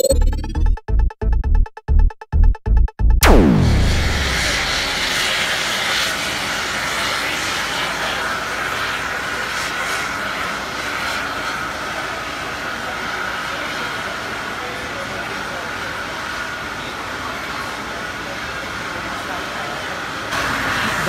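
Airplane engines roar in a steady, broad wash at an airport after a charter flight lands in Montenegro, loud and continuous after a brief burst of clattering rhythmic noise at the start.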